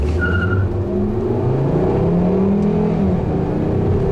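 A 2011 Volkswagen Jetta SEL's 2.5-liter engine revs hard and rises in pitch under acceleration, with brief faint front-tire chirps, loud and continuous from inside the car.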